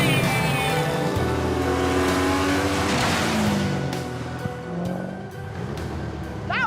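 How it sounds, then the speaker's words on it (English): A car is driven fast on a hot lap, its engine rising and falling through gear changes with tire squeal, loud and close from inside, easing off toward the end. "Jan even finds time between courses to hitch a ride on a hot lap."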